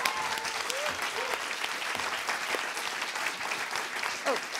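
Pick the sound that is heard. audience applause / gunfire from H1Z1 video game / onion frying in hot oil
audience applause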